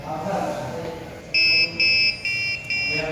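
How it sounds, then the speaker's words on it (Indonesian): Electronic buzzer on an RFID, servo and buzzer lab circuit sounds four loud, shrill beeps in quick succession after a card scan. Softer mechanical and room noise comes first, and no talk is heard. "kartu RFID di-scan, servo motor bergerak dan buzzer bunyi"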